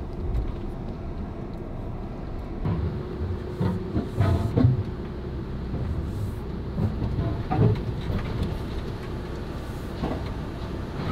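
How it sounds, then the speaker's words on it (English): Inside a moving train, a steady low rumble and rolling noise fill the space, with occasional knocks and thumps rising over the continuous drone. "We're on the train."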